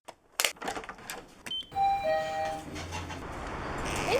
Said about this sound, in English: But it all starts with a subway ride.